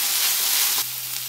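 Ginger and garlic paste sizzling in hot oil in a home kitchen while a prawn and okra masala is being cooked, with a steady, close, bright hiss throughout and a slight drop after a faint stir.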